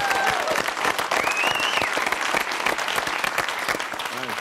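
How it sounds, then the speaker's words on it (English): A studio audience at a television talk show gives loud, dense applause. It runs steadily for the whole stretch, with a few whistles and brief cheers riding over it. "Give them a big round of applause."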